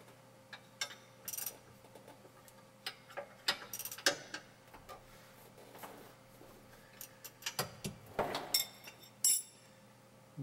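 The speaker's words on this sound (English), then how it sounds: "you can now finish tightening the pin assembly" Ratcheting clicks and metallic clinks come from tightening the pin assembly on an older-style Auto Slack Saver brake adjuster, with irregular bursts of clicking separated by quiet gaps, close and fairly faint.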